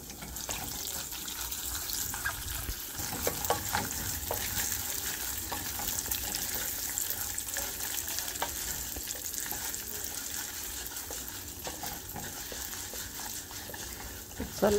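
Urad dal frying in hot oil in a pan for South Indian lemon rice (chitranna), a steady close sizzle with occasional light stirring clatter throughout, no voices.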